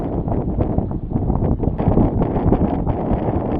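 Strong wind gusts buffet the microphone while sailing close hauled on a lake, a loud, rough roar that swells and ebbs without pause, with no voices.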